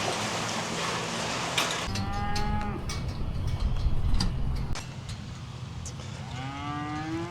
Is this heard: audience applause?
no